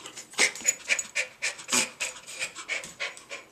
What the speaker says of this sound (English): ये देखो डॉग, इसी को डॉग